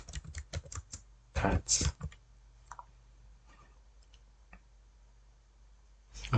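Keystrokes on a computer keyboard typing a project name in quick bursts of clicks, clustered near the start with a few scattered taps after, close and moderately loud, with a brief spoken word.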